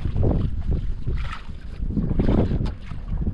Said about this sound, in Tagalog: Yung malakas na naman ulit ang hangin, ayan o.